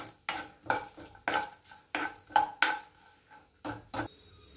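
A spoon scrapes and clinks against a cooking pot while stirring whole nutmeg, mace, cardamom, cloves and cinnamon for paneer pulao, a series of about eight sharp metallic knocks spaced irregularly, close and fairly quiet.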